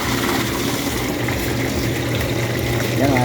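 Water gushes hard from a household water supply, a loud, continuous rushing flow with no break across the whole span.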